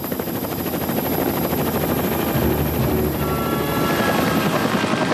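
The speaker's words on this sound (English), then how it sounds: "a helicopter sweeps the waves with searchlights" A helicopter flies over a storm-tossed lake at night during a search, its rotor a loud, steady drone that fills the whole clip, with no voices.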